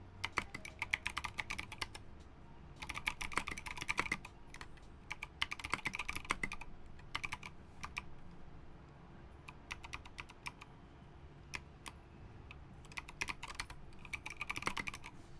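Typing on an M0110 keyboard fitted with lavender switches and a zebrawood plate, rapid bursts of clacky keystrokes alternating with short pauses and isolated single presses, close and clear over a low background hum.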